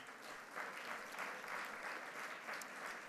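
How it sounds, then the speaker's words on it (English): An audience at a leadership celebration gives an honoree a round of applause, a faint, steady patter of many hands clapping for a few seconds. "let's give her a round of applause, please"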